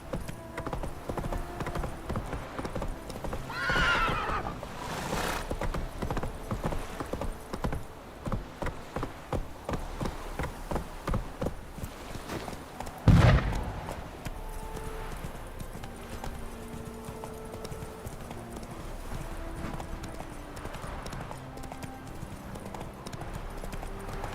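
A horse in the Witcher 3: Wild Hunt video game gallops with steady, rhythmic clip-clop hoofbeats and gives a short whinny partway through, all close and continuous.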